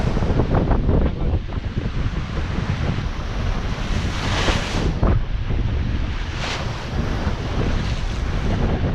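Strong wind and surging ocean swells of 4 to 5 meters roar continuously around a sailboat running fast downwind near Raoul Island, with broadband rushing noise and periodic louder whooshes of breaking water.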